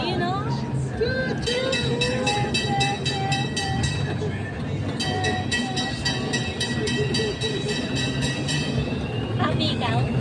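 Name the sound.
kiddie train ride at a mall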